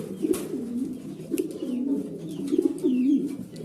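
A male show pigeon, a six-to-seven-feather Globber Shoking breed, coos in repeated soft rolling phrases close up, with faint background noise and no talk.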